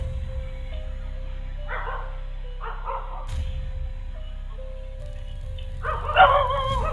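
A startled dog, hurt after a kick to its rear, gives a few short barks and yips in bursts among quiet background hum, caught on a CCTV camera.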